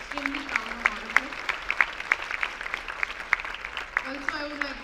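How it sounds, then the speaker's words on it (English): An audience at a university Republic Day celebration applauds the students, steady clapping that carries on at moderate volume with a voice speaking over it. "So let us have a huge round of applause for all the students."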